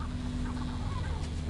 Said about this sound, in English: Oh, shut up, you trash birds.